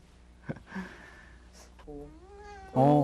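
A cat meows several times, starting with short faint calls and ending in a loud, drawn-out meow close by.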